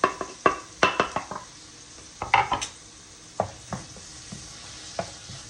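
Garlic added to mushrooms in a frying pan, with sharp utensil scrapes and clinks against the pan over a faint, low sizzle.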